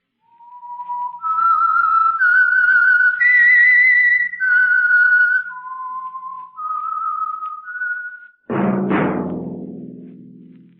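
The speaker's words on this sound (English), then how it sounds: "That whistle is your signal." A clear solo whistled theme tune for the radio show The Whistler rises and falls through several notes, then a brief, different burst of sound ends it.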